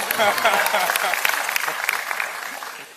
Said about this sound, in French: Applaudissements pour la mère de monsieur également.